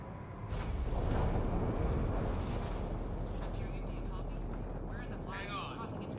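A spaceship making atmospheric entry in the game Mass Effect: Andromeda gives a loud, broad rumbling roar that swells and holds for several seconds, with faint electronic chirps near the end.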